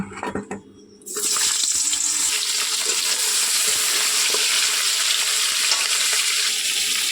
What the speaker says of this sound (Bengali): এবার এই তেলেই কড়াইতে পটলগুলো সব দিয়ে দেবো। পটলগুলো এক এক করে ভেজে নেব।